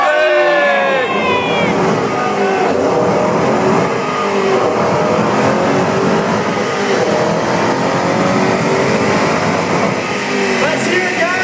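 A Ford Shelby engine revs hard on a dyno at a 2012 Chicago car show, holding a loud, sustained high-RPM howl near 7,000 RPM while a crowd cheers and shouts around it.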